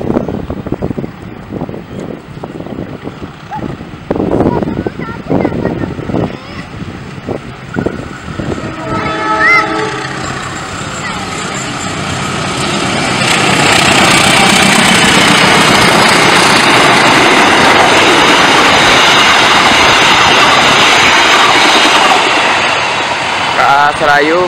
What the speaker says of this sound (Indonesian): Oke teman-teman, ada kereta api dari arah Padalarang.